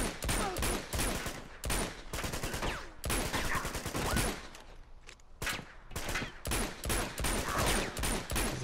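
Rapid, sustained gunfire from a firefight in the video game Uncharted 2, with dense overlapping bursts of shots continuing loudly through the whole stretch and no talking.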